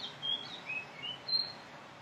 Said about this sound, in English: I was out in the garden and there was all these little fantail birds